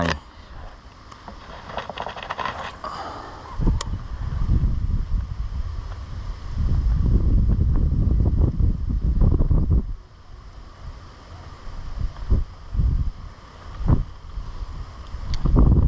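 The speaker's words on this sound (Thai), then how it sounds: "เริ่ม มีกระแส ลมแล้วครับ" Wind gusts buffet the microphone outdoors near water, swelling into long rushing bursts and fading again, with occasional faint voices and a few sharp knocks.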